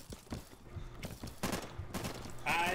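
Scattered gunshots ring out in the video game Insurgency during a co-op firefight, sharp intermittent cracks at moderate distance, fairly faint overall.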